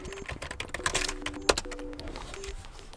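Computer keyboard typing while filling in a contact name on a lost-device form, with quick irregular key clicks near and fairly quiet, one sharper tap standing out midway.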